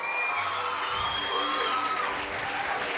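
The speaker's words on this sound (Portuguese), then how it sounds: "Pode aplaudir o Senhor bem forte." A church congregation at a worship conference applauds loudly and continuously, with dense clapping mixed with cheers, whoops and shouted voices from the crowd.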